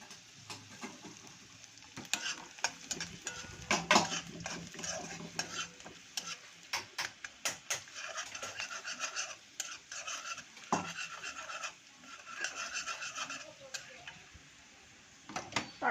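Chopped garlic and bay leaves fry in a little oil, a soft continuous sizzle broken by sharp clicks and scrapes of a utensil stirring the pan, faint and close, with no talk.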